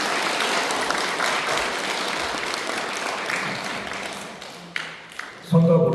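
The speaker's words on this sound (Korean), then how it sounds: "다시 한번 큰 박수 한번 부탁드립니다" A congregation at a Won Buddhist temple service breaks into steady applause that fades over several seconds, followed by a few scattered claps and then a brief tone.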